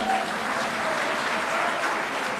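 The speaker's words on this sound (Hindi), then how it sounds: "ताली बजाइए" A crowd at a Bhamashah Jayanti celebration at a JD(U) office claps steadily, a dense, even patter of applause lasting a couple of seconds.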